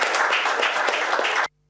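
A crowd gives a round of applause at a news event, dense continuous clapping close and loud, cut off abruptly after under two seconds.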